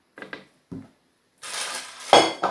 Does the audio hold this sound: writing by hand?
no